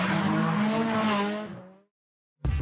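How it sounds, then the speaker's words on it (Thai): A racing car's engine roars loudly with turbo whine and tires scraping along the road, a sustained rush that fades out into silence before a brief burst of sound returns at the end. "จะมีแค่เสียงเครื่อง เสียงเทอร์โบ และยางที่สีไปกับถนน"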